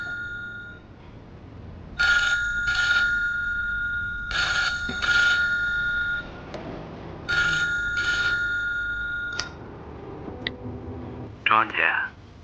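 A mobile phone rings during a meeting, a repeating electronic ring in regular bursts that sound close and fairly loud, with brief muffled voices and movement between rings.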